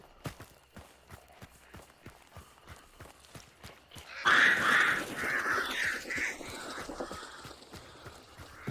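Crows caw in the Hunt: Showdown video game, a sudden loud burst of harsh, repeated caws with flapping that begins midway and trails off. Before it, steady rhythmic thuds sound like footsteps, and there is no talk.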